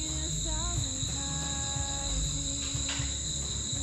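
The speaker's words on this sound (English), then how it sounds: "That's the sound of a very healthy forest." Dense, constant insect chirping fills the night air of a healthy mountain forest on Mt. Hamiguitan, with a high steady cricket trill and some faint low rumbling underneath.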